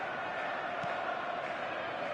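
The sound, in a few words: crowd cheering in PES 22 football video game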